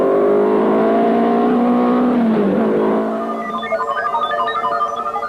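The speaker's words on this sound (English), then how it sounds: "as the racing car passes, the note gets lower because the sound waves are spread out again." Racing car speeding past, its loud engine note holding high then sliding sharply lower as it goes by, fading into a wavering, receding drone.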